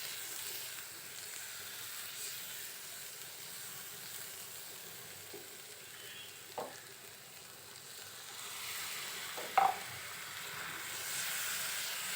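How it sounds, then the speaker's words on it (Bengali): Spices frying in oil for an okra paturi dish: a soft, steady sizzle and hiss close by, with a few brief clicks from stirring, and no talking. "মশলাগুলো তেলে কিছুক্ষণ ভালো মতো ভেজে নিব"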